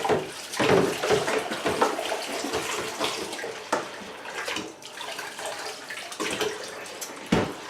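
Water sloshes and splashes in a sink of hot soapy water in irregular bursts, with clinks and swishes as glasses and cutlery are moved and rinsed, close by.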